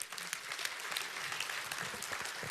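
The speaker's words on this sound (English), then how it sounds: "Give everybody a hand." Audience applause at a Tony Robbins seminar, a steady wash of many hands clapping from a large crowd, heard fairly faint and at a distance throughout.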